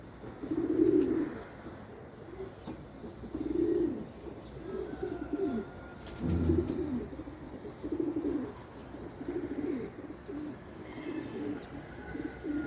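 Racing pigeons coo nearby in soft, repeated low rounded phrases every second or two, steady throughout with faint background ambience and no talking.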